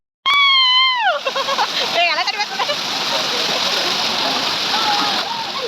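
Water splashes and rushes continuously at a waterfall where people play and soak each other, with a loud voice calling out over the start before the steady wash of falling water carries on.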